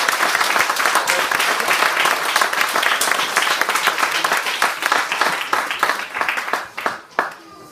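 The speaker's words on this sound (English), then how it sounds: "Should we give them all one more clap?" An audience at an under-9 football team presentation clapping for the young players: loud, brisk clapping that stays dense for several seconds, then breaks up into a few last claps and fades.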